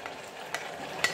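Onion and chives hit a hot frying pan for finely sliced beef sauté, a brief soft sizzle with a few light stirring clicks, close and moderately quiet, no speech.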